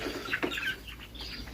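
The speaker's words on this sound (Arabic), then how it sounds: "تقدر تكون باقا شي 20 فروج بحال هذا عندي في المحل" Fayoumi chickens in a shop give a few soft, close clucks in a brief burst that quickly fades into quiet.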